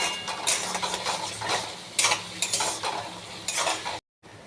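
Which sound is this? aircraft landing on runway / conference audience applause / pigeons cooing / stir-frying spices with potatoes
stir-frying spices with potatoes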